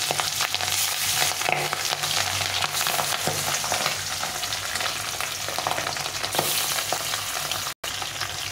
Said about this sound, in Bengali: তো এখানে মাছটা ভেজে নেব।